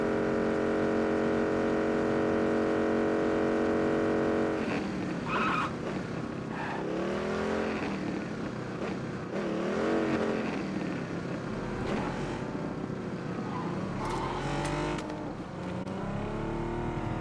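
A motorbike in the PUBG battle royale game drives along with a whining engine that climbs and dips as it shifts and accelerates, loud and continuous, with tire skids and bumps along the way.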